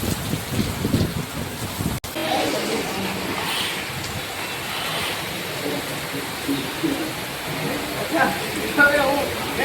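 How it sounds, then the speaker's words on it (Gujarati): Heavy rain comes down as a steady broadband hiss and patter, briefly cut off near the start and otherwise constant, with a faint voice now and then. "એક તો વરસાદ રૂકવાનું નામ નહીં લેતું"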